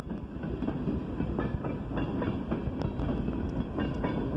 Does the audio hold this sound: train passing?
yes